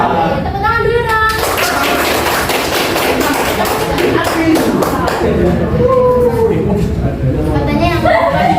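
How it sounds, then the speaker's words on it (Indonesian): Students at a high school anti-drug campaign event clap together in a sustained burst of applause, with voices and chatter mixed underneath throughout. "Tepuk tangan dulu dong."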